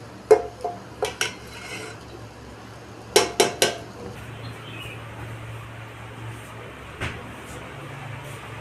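Potatoes go into a pressure cooker holding a goat meat curry, and the lid is shut. Close metallic clanks and clinks come in two short bursts, followed by one more knock and quiet kitchen background.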